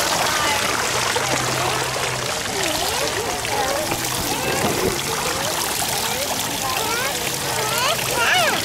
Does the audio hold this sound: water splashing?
yes